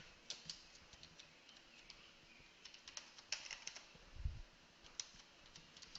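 Keys click on a computer keyboard as a command is typed into a command prompt, a loose run of light taps with small bursts, faint and close, without talk.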